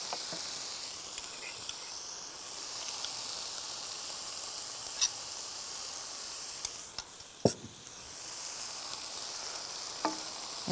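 Sauce poured into a pan of stir-fried vegetables, a quiet steady sizzle and hiss with a few sharp clatters of a utensil against the pan.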